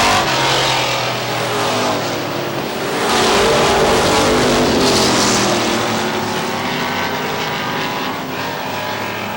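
Race cars roar down the back straightaway at Star Speedway in New Hampshire, a loud, dense engine howl that swells around the middle and stays steady, with no talk.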